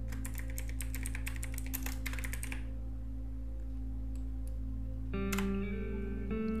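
Rapid keystrokes on a computer keyboard while a name is typed during an Ubuntu 23.04 installation in VirtualBox, a dense burst of clicks for about two seconds over a steady low hum, then quiet, then a short soft beep-like tone.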